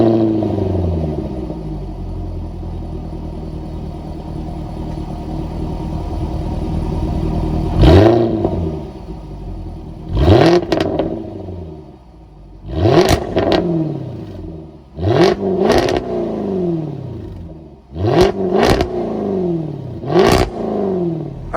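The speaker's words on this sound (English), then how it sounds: "that was of course the sound of the supercharged 5-liter V8 sold by Jaguar for this F-Type" A Jaguar F-Type R with a supercharged 5-liter V8 idles with a low steady burble, then gives six or seven sharp, loud throttle blips that rise and fall quickly, heard close from the rear quad exhausts.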